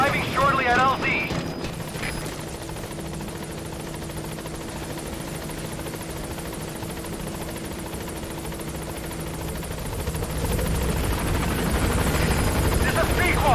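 A helicopter in the video game Metal Gear Solid V arrives at a landing zone, its rotor thumping steadily and growing louder toward the end, with radio voices talking over it at the start.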